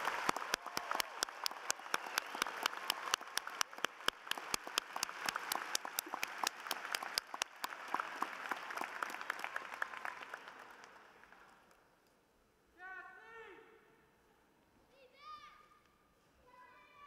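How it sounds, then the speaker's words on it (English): A crowd at a university political science commencement applauds, with steady dense clapping for about ten seconds that then dies away, followed by faint voices. "Let's give them all a roaring round of applause."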